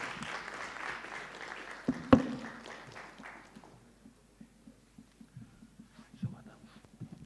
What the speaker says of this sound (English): I thought we were clapping.